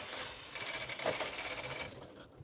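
A Brother knitting machine set for punch card knitting runs its carriage across one row, producing a continuous bright mechanical whirring rattle that ends abruptly.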